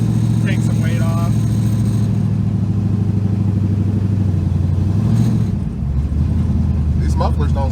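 An LS-swapped 1977 Chevrolet Nova idles loudly and steadily through its mufflers, a deep continuous rumble close by, with brief voices talking over it.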